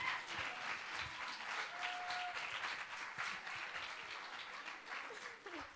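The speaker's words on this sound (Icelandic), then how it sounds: "Gefum þau gott klapp" Dense, steady applause from a seated audience at a school song contest, many hands clapping close and loud for the whole stretch before easing slightly at the end.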